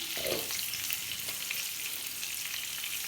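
Stuffed round gourds (tinda) sizzle in a pan on a gas stove, giving a steady, soft crackling hiss that continues evenly throughout, with one faint brief clatter near the start and no voices.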